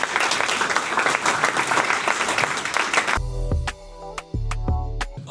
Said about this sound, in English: can we please have a huge round of applause for our guest speakers